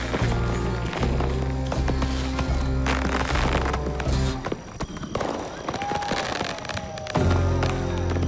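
Fireworks in a massive display burst in a rapid series of loud, close explosions and crackles, with whistling rockets between the bangs and brief pauses before the barrage resumes.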